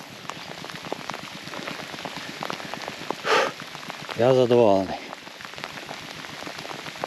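Steady heavy rain patters throughout, with a brief spoken phrase partway through.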